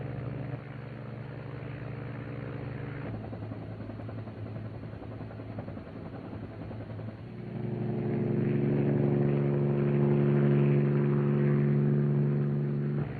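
UH-1 helicopter gunships launching, a continuous engine drone with rotor throb that grows louder partway through as the aircraft powers up, no voices.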